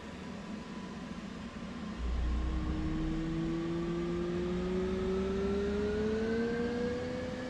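A jet engine spools up during start-up in the DCS World flight simulator, in a Blue Angel #5 solo jet: a steady low hum gives way to a loud turbine whine that climbs steadily in pitch and holds, with no talking.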